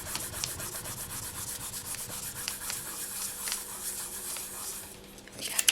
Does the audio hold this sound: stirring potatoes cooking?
no